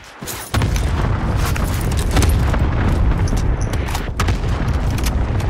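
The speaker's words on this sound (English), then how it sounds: "Stun grenade out." A stun grenade goes off in Call of Duty Warzone with a sudden loud boom, then a sustained dense roar of explosion and battle noise with scattered sharp cracks, continuing loud throughout.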